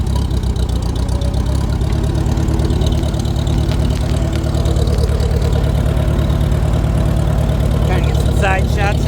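A Farmall Super H tractor idles with a steady, close, throbbing engine note that runs slightly rough, continuous throughout with a few faint higher chirps near the end.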